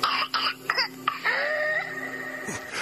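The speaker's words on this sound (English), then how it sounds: "that baby with the whooping cough in the background?" A baby with whooping cough gives harsh, rasping coughs and throat-clearing sounds in quick bursts, followed by a strained, drawn-out breath, over a faint background hum.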